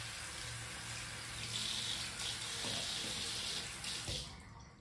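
Water runs steadily from a tap into a sink while shaving lather is whipped with green Palmolive soap, a constant close rushing that cuts off near the end.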